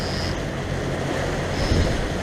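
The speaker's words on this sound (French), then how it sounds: "il y a un peu de mer, il y a un peu de vent pour sortir" A sailboat heading out to sea in moderate swell, with steady wind rushing over the microphone and waves washing continuously against the hull, loud and unbroken with no talk.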